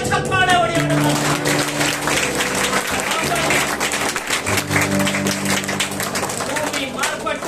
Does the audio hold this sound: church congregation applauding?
yes